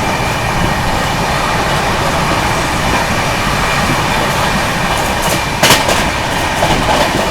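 An express train on the Maharashtra Sampark Kranti run from Mumbai to Delhi rushes through Vapi station without stopping, a steady loud roar of wheels and rattling carriages with clickety-clack, heard continuously from on board.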